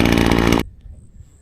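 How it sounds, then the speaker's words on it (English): A chainsaw attachment fitted to a weed trimmer cutting brush buzzes loudly and close, a harsh steady whine that cuts off abruptly partway through and leaves faint outdoor background. "all this with my chainsaw weed whacker attachment. This was all brush, cut it all down."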